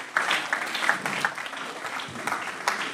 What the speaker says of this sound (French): Je pouvais vous mettre sur nos applaudissements.